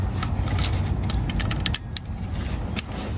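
A ratchet wrench turns a 12 mm bolt on the belt tensioner of a Lexus GX460. It gives close, rapid clicking in short bursts with faint creaks and mechanical rattles and no talk.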